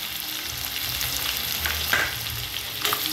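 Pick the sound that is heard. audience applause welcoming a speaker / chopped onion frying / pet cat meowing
chopped onion frying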